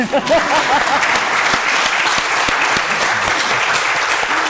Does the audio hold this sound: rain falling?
no